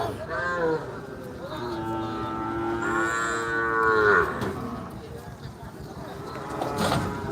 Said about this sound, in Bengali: ধীরে ধীরে গরু নামা শুরু হয়েছে